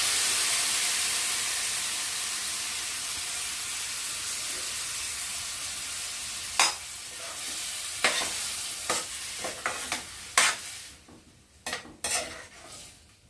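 Tomato puree stirred into cooked drumsticks in a pan: a steady hiss of frying fades, then sharp scrapes and clinks of a spoon against the pan come in irregular bursts over the sizzle.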